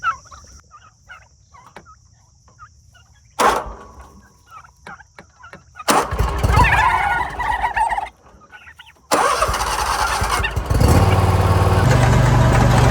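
Turkeys, five toms among thirteen hens, gobble in bursts amid scattered farmyard clucking, with loud hurricane rain washing over the later part.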